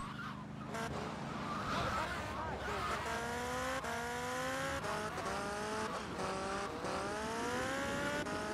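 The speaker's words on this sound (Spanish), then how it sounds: "Es súper rápida esta moto, pero cuesta mucho controlarla" A motorcycle engine in GTA Vice City Remastered, revving and whining as the pitch climbs and drops through repeated gear changes, loud and continuous with a noisy background throughout.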